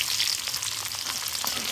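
Chopped garlic fries in hot oil with dried chillies and five-spice for an olive pickle, giving a close, continuous crackling sizzle with faint stirring and no talk.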